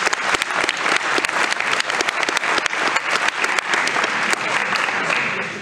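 A room full of people gives a round of applause for a student receiving his varsity letter, loud sustained clapping with sharp individual claps throughout.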